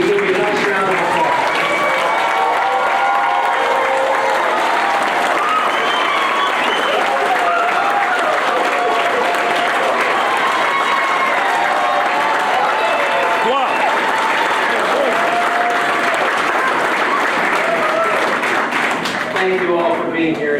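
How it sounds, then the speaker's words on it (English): Sustained, loud applause from a large standing crowd at a Maryland correctional officers' graduation ceremony, steady and dense throughout, with voices murmuring and calling out beneath the clapping. "we can give you a nice round of applause."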